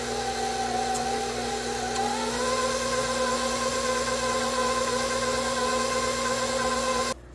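A stand mixer on high speed beats pound cake batter in a steady, droning whir with a constant pitch. The motor shifts slightly in tone partway through, then cuts off abruptly at the end.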